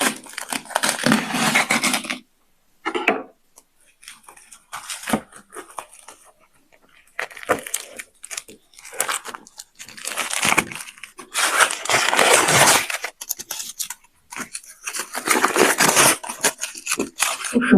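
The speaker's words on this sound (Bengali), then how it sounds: "তাহলে চলো আনপ্যাক করে দেখাচ্ছি।" Restaurant takeaway packaging for chicken biryani, raita, salad and cold drinks is unpacked close up, with bursts of crinkling plastic, paper rustles and tearing separated by short pauses, and no talking.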